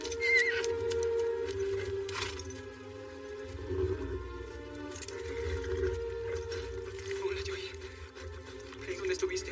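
A war horse neighs and whinnies in a dramatic scene, with hoof clip-clops and a voice speaking over the animal sounds.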